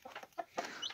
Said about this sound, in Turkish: Altta horozlar var bu arada, onların sesi.